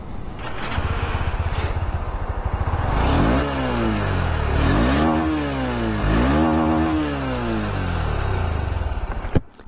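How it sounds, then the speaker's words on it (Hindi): A Honda Hornet 2.0 motorcycle, 2023 model, idles with a close, loud exhaust burble and then revs in several rising and falling bursts before the engine cuts off abruptly at the end. "एक बार इसकी एग्जॉस्ट साउंड भी आप सुन लीजिए।"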